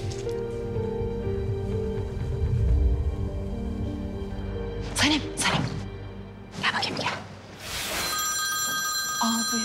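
A telephone rings in an indoor TV-drama scene, bright repeated bell tones rising near the end over music and background speech.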